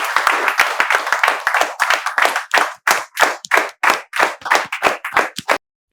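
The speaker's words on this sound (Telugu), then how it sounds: "మేమందరం చప్పట్లతో స్పెషల్ స్వాగతాన్ని తెలియజేస్తూ సెలవు" A small group claps to welcome people at a spoken English class, a loud, close run of sharp claps in a rapid irregular rhythm that thins out and stops near the end.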